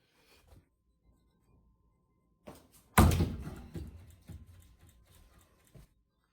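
A 300-gram steel throwing knife made from a car spring strikes a wooden target with one loud, sharp thud, followed by a short rattle and a few softer knocks. No one speaks.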